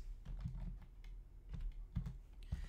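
Keys clacking on a computer keyboard while drawing walls for a guest cottage in CAD software, a quiet scattered run of taps with a few sharper presses over soft low background hum.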